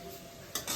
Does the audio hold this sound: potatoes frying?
yes